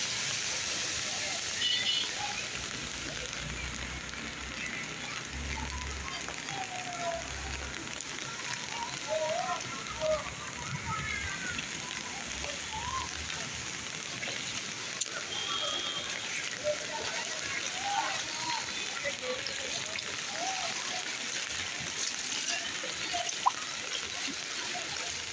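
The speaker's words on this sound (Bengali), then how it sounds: "পানির স্রোত কি, মনে হয় যে পুরো বর্ষার পানি নামতেছে" Floodwater current rushing through a street in Mirpur, a continuous low wash of flowing and splashing water at a moderate distance, with distant voices and street noise under it.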